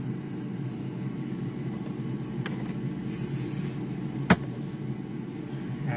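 Faint hiss of glue activator sprayed onto a handmade inlay ring over a low steady background hum, with a brief sharp tap near the end.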